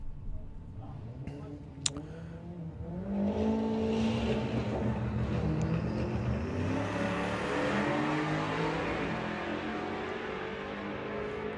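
Volkswagen drag race cars in the VW Pro class at Santa Pod accelerate hard down the strip, a loud sustained engine roar that builds and holds with a rising pitch, commentary voices running underneath.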